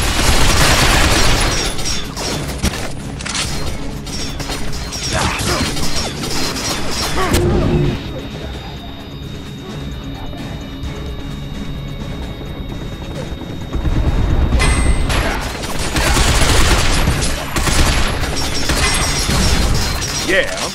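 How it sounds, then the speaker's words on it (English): Machine gun fire from the video game Binary Domain, dense loud bursts with crashing impacts filling most of the stretch, easing in the middle before heavy firing returns near the end. "Dan, watch out for that machine gun fire"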